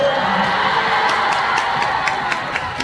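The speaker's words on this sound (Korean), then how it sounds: "박수 한번 쳐주세요." A concert crowd at a tour in Seoul claps and cheers, a dense wash of shouting and whooping with scattered claps, loud and continuous, fading slightly at the end.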